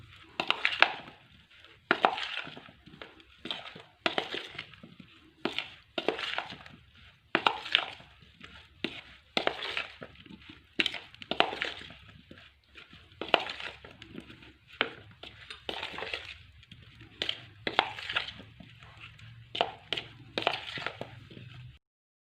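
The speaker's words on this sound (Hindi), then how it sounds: "अब हम चम्मच से इसको अच्छी तरह मिक्स कर लेंगे।" A spoon mixes sweet potato chaat in a bowl with a long run of close, repeated clinks and scrapes, quick and uneven in rhythm, going on steadily for about twenty seconds.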